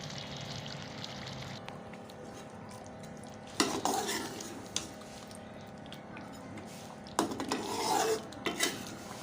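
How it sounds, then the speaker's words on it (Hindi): Chicken frying with onions in a pan sizzles steadily while a utensil scrapes and stirs in two louder bursts, with faint background clatter. "प्याज के साथ फ्राई करते हुए 5 मिनट हो चुके हैं"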